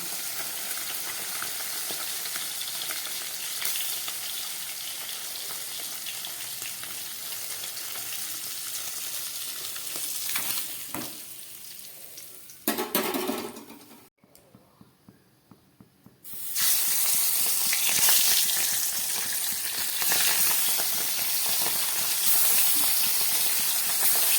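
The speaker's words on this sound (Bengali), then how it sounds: "এবার এই মাছগুলো তুলে নিয়ে বাকি মাছগুলো আমি আরেকবার ভেজে নেব" Soft pabda fish frying in a pan of oil, a dense hissing sizzle that dips briefly with clatter and handling noises midway, then surges back louder and steady.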